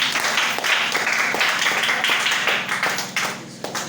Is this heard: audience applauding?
yes